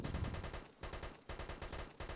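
Bursts of automatic gunfire in DayZ Epoch, rapid rattling shots in three or four volleys separated by brief gaps, faint and somewhat distant.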